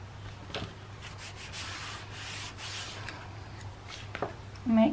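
Paper glued onto a page of a handmade high tea mini album is burnished by hand, giving a steady, close, soft rubbing swish throughout with a brief louder scrape at the very end.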